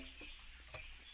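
Frog croaking in Wobbledogs, faint short croaks at low volume with a steady soft background hum.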